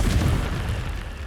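A Confringo blast spell in Hogwarts Legacy erupts as a deep, booming explosion with a dense rumbling burst that stays loud throughout the short moment.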